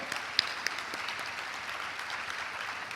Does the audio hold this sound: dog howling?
no